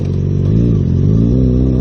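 A motorcycle engine revs close by, a loud, steady, rough mechanical drone that holds without pause.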